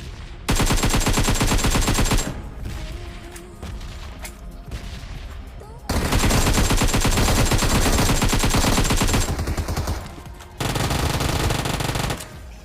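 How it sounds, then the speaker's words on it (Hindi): Automatic gunfire in PUBG Mobile rattles in long, loud sustained bursts separated by short lulls, with dense rapid shots and booming impacts filling the whole stretch. "यहाँ पे मैंने बहुत सारी गोली मारी"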